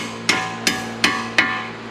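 Four sharp hammer strikes land in a steady rhythm, roughly every 0.4 seconds, each ringing briefly on metal during a coilover suspension install on a Subaru WRX/STI; close and fairly loud, with no talking.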